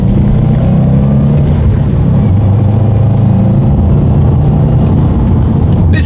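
A 2018 Subaru WRX STI accelerates hard, a loud, steady engine roar that fills the whole stretch with a dense rumble and no pauses, heard close up without talk.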